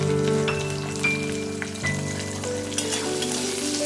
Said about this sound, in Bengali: আমি কেটে রাখা পেঁয়াজগুলোও দিয়ে দেব, দিয়ে ভালো করে সব মশলার সঙ্গে একসঙ্গে ভেজে নেব